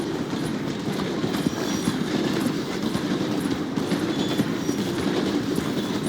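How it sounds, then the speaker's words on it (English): A train in Red Dead Redemption 2 slows as it passes through a station, with a steady rumbling roll and clickety-clack of wheels on rails at moderate volume, no voices. "The train is slowing down to go through the station."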